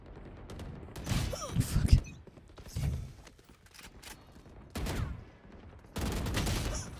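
Bursts of rapid video-game gunfire come in several separate volleys with pauses between them, close and punchy, with faint voices underneath at times.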